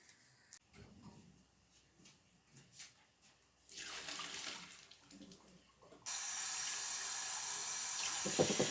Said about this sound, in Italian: sotto il getto dell'acqua fredda, faccio raffreddare il riso più velocemente